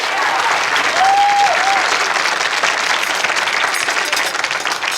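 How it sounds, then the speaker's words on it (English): Studio audience applauds on a comedy television show, a loud, sustained wash of clapping from a crowd, with a brief tonal sound heard under it early on. "Let's have a round of applause for Bill Boggs."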